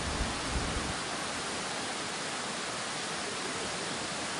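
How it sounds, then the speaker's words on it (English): Waterfall in a nature setting near Shillong in northeast India, a constant, dense rush of falling water that fills the scene at an even level without pause or talk. "Mostly waterfall."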